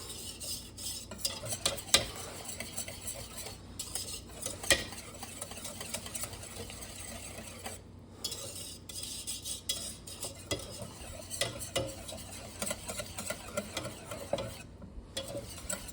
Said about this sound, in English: Add the rest. We'll stir it up.